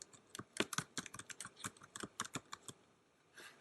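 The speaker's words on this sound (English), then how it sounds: "To change the default name, simply click on this area and type in a new name." Quick, irregular keystrokes on a computer keyboard as a name is typed into a dictation app, crisp close clicks in short bursts with a brief pause before a final couple of taps.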